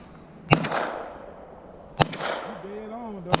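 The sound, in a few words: gunshots from AR-15 rifles and pistols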